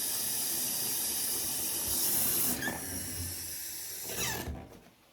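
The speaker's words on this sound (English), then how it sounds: "I'm going to take a paper towel and I'm going to turn off the faucet with the paper towel." Water from a faucet hisses steadily into a sink, then cuts off abruptly as a hand turns the tap off with a paper towel, leaving near silence with a faint squeak.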